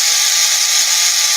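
A power-tool paint mixer churning paint, a loud, constant high whir with no break and faint rattling underneath.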